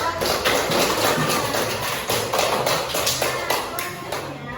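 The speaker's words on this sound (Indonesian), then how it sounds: "Coba tepuk tangan dulu." A classroom of students claps together, producing a busy, continuous patter of many hands with voices mixed in underneath.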